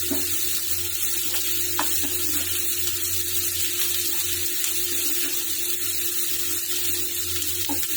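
Onions for paneer bhurji sizzle steadily in a frying pan, a continuous close hiss with a few faint clinks of stirring and no talk.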